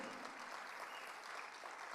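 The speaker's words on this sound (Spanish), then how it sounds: "Fuerte ese aplauso al Rey." A church congregation applauds during a sermon, a faint, distant wash of steady clapping with no words.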